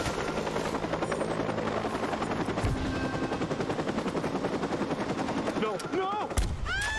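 A helicopter in the Watch Dogs video game drones loudly and steadily, mixed with rapid gunfire bursts and a few sharp whistling effects toward the end.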